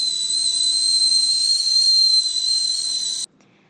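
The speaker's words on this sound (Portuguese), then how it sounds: "como pode uma chaleira com água emitir um som tão alto?" A kettle of water nearing the boil gives a loud, steady, high whistle with a faint hiss, holding for about three seconds before cutting off abruptly into silence.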